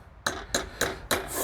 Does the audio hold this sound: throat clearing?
no